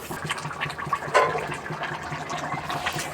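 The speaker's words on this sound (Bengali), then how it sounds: "এই তরকারি মানে ফোটার এই টকবক টকবক শব্দটা এত ভালো লাগে আমার" Ghugni curry boils in a pot on a village hearth during cold winter, giving a soft, steady bubbling and gurgling with one brief louder burst, fairly faint and with no voices.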